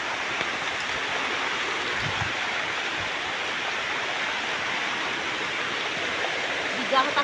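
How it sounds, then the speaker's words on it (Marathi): Steady, dense rush of heavy rain over a rice field, broadband and constant throughout, with a brief low thump near the middle and faint clatter at the end. "पाऊस आलेला आहे खूप"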